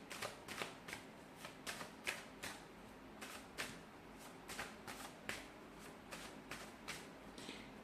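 Oracle cards being shuffled by hand in a quiet room, giving a steady series of soft, crisp riffling bursts, each short and evenly spaced, close by and fairly faint, with no talking over them.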